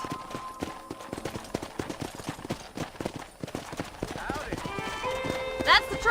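Horse hooves galloping in Red Dead Redemption: rapid, steady clip-clop beats pound throughout at moderate distance, with a brief whinny near the end and a bright metallic jingle over the final seconds.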